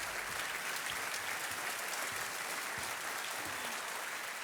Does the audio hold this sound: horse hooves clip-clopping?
no